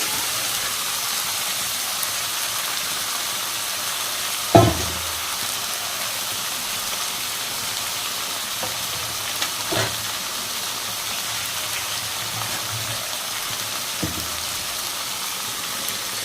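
Hilsa fish pieces frying and being stirred with pumpkin greens in a pan, a steady faint sizzle with a few sharp clatters of a spoon or fish hitting the pan.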